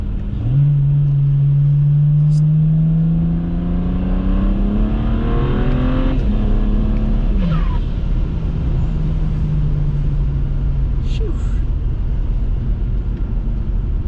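A loud turbocharged BMW 335i N54 engine, about 500 hp, revs hard through the gears, a rising drone with shifts and a whooshing turbo spool, continuous and close.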